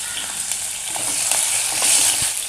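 Small shallots and garlic sauté in a pan over a low flame, a close, continuous crackling sizzle with light stirring, loud and steady, with no talking.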